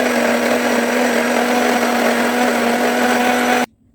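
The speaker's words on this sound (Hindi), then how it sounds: "तो चटनी पीस गई है" Mixer grinder whirring loudly and steadily as it grinds coconut chutney with coriander and salt, a continuous motor drone that cuts off abruptly near the end.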